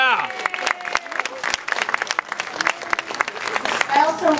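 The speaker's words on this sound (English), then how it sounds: "So let's pay them with applause" An audience at a film Q&A applauds the volunteers, a scattered burst of claps and cheers with voices mixed in above the clapping.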